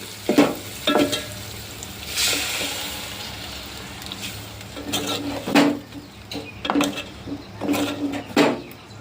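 A ground paste of tomatoes, onion, ginger and coriander seeds is poured into a hot pan for tomato rasam. It sizzles with loud bursts of stirring and clattering cookware.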